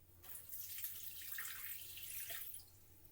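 Water poured into a Thermomix bowl over butter, a soft steady trickling pour lasting a few seconds, faint and close, without talk.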